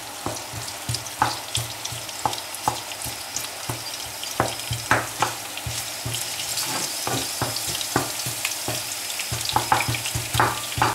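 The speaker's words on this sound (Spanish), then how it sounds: "Apenas ya está así friéndose los ajitos, para que no se quemen" Garlic fries in hot oil in a pan, a close, continuous crackling sizzle punctuated by regular scraping and clinking stir strokes, with no voices.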